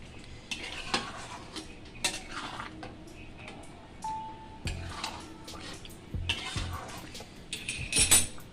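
Potato curry being stirred in a pan with ghee, with intermittent spoon scrapes and clinks against metal over a faint sizzle, close and fairly quiet, no voices.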